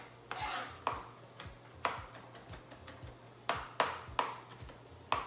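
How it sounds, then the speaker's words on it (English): Kitchen knife mincing garlic cloves on a cutting board, irregular sharp chops in quick clusters, close and fairly quiet, with no speech. "let me chop up this garlic really small"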